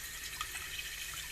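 Water runs for asparagus soup, about half a liter being poured, a steady faint splashing stream that carries on evenly without pause.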